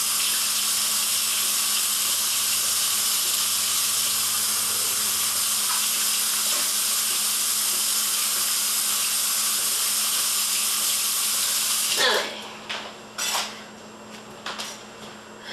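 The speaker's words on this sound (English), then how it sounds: "I'm going to wash this off real quick before I continue" Running tap water rushing steadily into a sink while hands are washed clean of greasy candy mixture, close and continuous hiss, then the flow stops and a few clattering handling noises follow.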